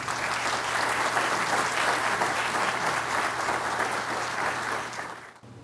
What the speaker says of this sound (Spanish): Con el aplauso de ustedes